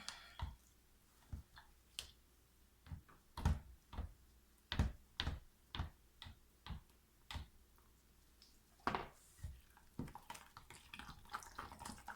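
White soap batter being stirred by hand in a container, giving a series of sharp separate clicks and taps as the utensil knocks the sides, spaced irregularly and loud against a quiet background.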